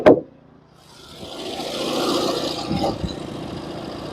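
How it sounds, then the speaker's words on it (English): Sawmill milling spruce into 2x12 boards: a sharp clack opens, then a steady broadband engine-and-blade roar builds and holds, with a brief louder burst near the end. "We're milling 2x12s right now."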